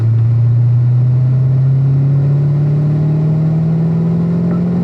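A car accelerates hard up the front straight of the Spring Mountain Motorsports Resort race track, its engine note rising steadily and loud from start to finish with no talk.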